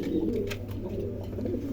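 Pigeons coo together in a loft, a dense, continuous low burbling murmur from several birds at moderate volume, with no talking over it.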